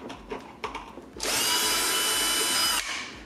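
A power screwdriver whirs steadily for about a second and a half, loud and close, backing screws out of a Philips LatteGo coffee machine, with light clicks and handling noise before and after.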